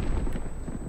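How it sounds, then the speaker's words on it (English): A grenade going off in the video game Call of Duty: Black Ops Cold War: a single short, loud, booming blast at the very start, decaying quickly into a rumbling tail. "Oh, bollocks grenade."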